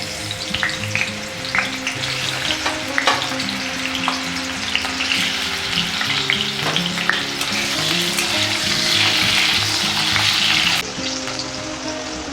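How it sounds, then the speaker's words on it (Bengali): Potatoes frying in mustard oil in a wok, a steady close sizzle and crackle with occasional stirring scrapes throughout, no voices. "সেই ফাঁকে ভেজে নেব আলুগুলো"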